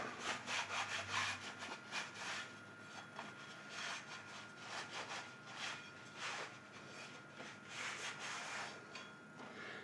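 A hand saw cuts through metal stock for a crankshaft truing jig in a steady back-and-forth rhythm, each stroke a loud, close rasping scrape, continuing unbroken for about ten seconds with no talk.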